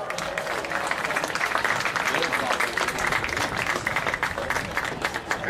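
Crowd applause at a boys' high school all-star lacrosse game, steady dense clapping sustained throughout at moderate loudness, with an announcer's voice faintly mixed in.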